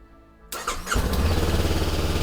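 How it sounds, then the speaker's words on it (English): A 2022 Honda CB500X motorcycle fitted with an air filter prefilter on a custom adapter starts with a brief starter whir and catches, then settles into a steady, close idle. "Okay, so just fire up the bike here."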